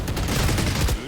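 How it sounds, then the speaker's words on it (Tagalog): Gunfire in a video game rattles out in a rapid, loud, dense burst of overlapping shots, close and harsh, lasting about a second. "Putok."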